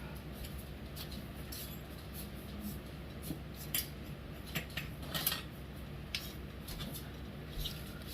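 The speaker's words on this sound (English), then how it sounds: "just chop it up a little bit in little tiny pieces" A knife taps and clicks against a cutting board, chopping food into tiny pieces, with a cluster of light cuts in the middle over a steady low background hum.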